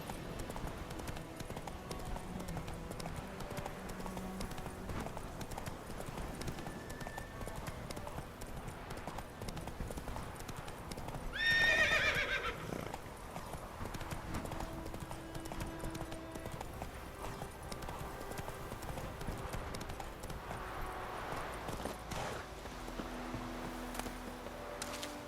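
Roach the horse trots along in The Witcher 3: Wild Hunt, a steady clip-clop of hooves running through the whole stretch, moderately close, over quiet game ambience with a brief louder swell midway.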